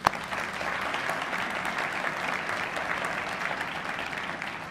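Sustained audience applause for elected officials and school board members at a Davenport State of the City event, steady dense clapping from a crowd at moderate level throughout.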